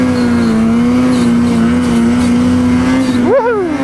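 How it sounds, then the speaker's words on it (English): A 2021 Ski-Doo Summit Expert 850 Turbo snowmobile drones steadily up close at a constant pitch, then near the end its turbo spools up and whistles in a sharp rising and falling sweep. "That is the turbo."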